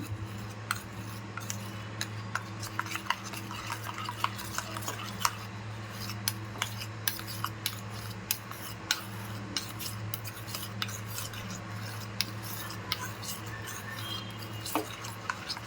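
Dry fruits being broken up by hand for homemade dryfruit kulfi make faint, scattered cracking and rubbing sounds, irregular small clicks repeating throughout with no talking.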